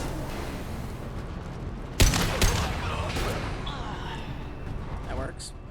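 Combat in Mass Effect 2 opens with a sharp burst of gunfire, followed by more shots and impacts amid voices and noise.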